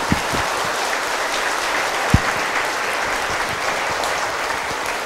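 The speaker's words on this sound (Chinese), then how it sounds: "以一次热烈的掌声感谢所有一切的众生吧" An audience at a Buddhist lecture in a temple breaks into warm applause, a steady, dense clapping that holds evenly throughout, with one sharper clap standing out midway.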